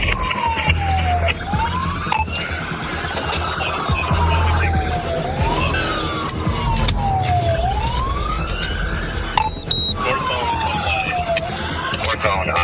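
A police car siren wails in repeated rising and falling sweeps during a high-speed pursuit, loud and near over road and engine rumble, with brief radio chatter.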